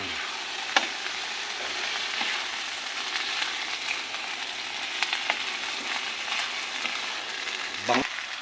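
Eggplant frying in a pan for binagoongang talong, a steady broadband sizzle with a few sharper crackles and clatters near the start and end, close and continuous, with no talking.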